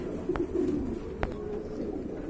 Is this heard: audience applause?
no